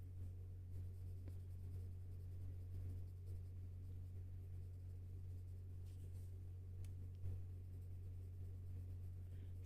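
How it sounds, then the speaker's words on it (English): Blackwidow colored pencils scratch steadily across very smooth paper, a faint continuous scraping of strokes over a prominent low electrical hum. "these Blackwidow pencils work really well on this paper. It's very smooth paper."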